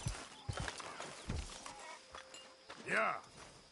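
Horse hooves clip-clop at a walk in a Red Dead Redemption 2 camp, with a short whinny near the end; voices talk over much of it.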